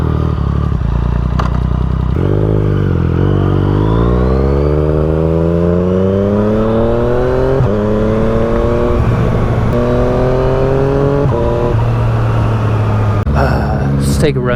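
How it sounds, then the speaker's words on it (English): A Yamaha FZ-09 motorcycle rides on a highway, its engine note rising steadily through the gears with clear upshifts, loud and continuous under heavy wind rush throughout. "Now we can go ahead, hop back on the bike"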